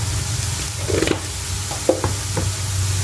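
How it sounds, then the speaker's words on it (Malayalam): Spices with chicken masala and garam masala sautéing in a pan, a soft continuous sizzle with a few scraping stirs of a spoon against the pan. "നന്നായി മൂപ്പിച്ചെടുക്കട്ടോ വഴറ്റിയെടുക്കാം"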